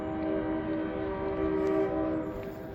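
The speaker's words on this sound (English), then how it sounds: "Gotta love a train horn snapping you back to reality." Train horn sounding steadily in Eugene, Oregon, a sustained multi-tone blast heard from some distance, holding for the whole stretch without a break.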